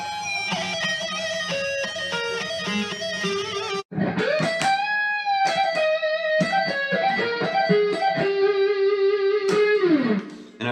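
A distorted electric guitar plays a fast lead lick in A harmonic minor, with quick runs, bends and fluttering trills. It plays alone and close, breaks off briefly, then ends on a sliding bend.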